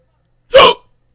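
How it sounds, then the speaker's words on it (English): A single sharp hiccup, one short loud burst lasting a fraction of a second and heard alone with nothing else around it. "Sorry, I had the hiccups."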